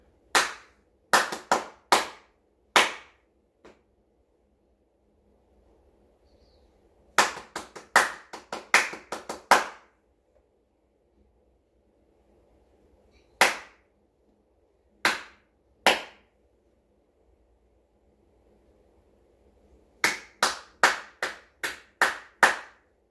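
Hands clap short rhythmic patterns in a children's music lesson playing a poison rhythm game, sharp close claps in quick bursts of four to six separated by silent pauses.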